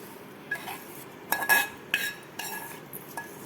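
A spoon stirs hot tempering into a raw mango and chana dal chutney in a steel vessel, giving several sharp metallic clinks and scrapes in uneven bursts, close and clear with a quiet background and no voices.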